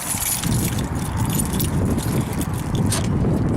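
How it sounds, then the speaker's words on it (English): Keys jangle steadily and fairly loudly beside a Duramax diesel Chevrolet Silverado 3500 dually pickup being looked over for restoration, with a dense low rumble underneath throughout. "Get my keys."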